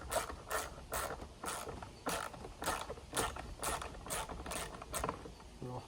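A wrench with a ratcheting action backs out carriage bolts on an Aqua Sport boat seat. It makes close, regular clicking strokes about twice a second, each a crisp burst of ratchet teeth, with no one speaking.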